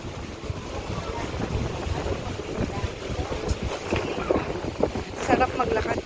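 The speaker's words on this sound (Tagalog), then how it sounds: "Mahangin siya, Akila, no?" Gusty wind buffeting the microphone on an outdoor walk after light rain, a rough low rumble rising and falling throughout with a few brief voices and footsteps mixed in.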